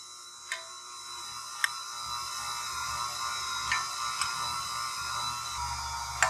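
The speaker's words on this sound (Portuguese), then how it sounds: "Vou ligar minha batedeira aqui no fraquinho e vou adicionando o leite em pó." An electric stand mixer runs on low speed while powdered milk is added, a faint steady mechanical whir with a thin high whine and occasional sharp ticks of the beaters.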